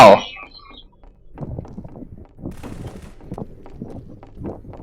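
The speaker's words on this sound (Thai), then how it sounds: "ได้ยินเสียงปืนหรือเปล่า" Gunfire in the Garry's Mod game inside an abandoned building: a scatter of irregular, muffled shots and thuds rattling on for several seconds, moderately loud, with voices present.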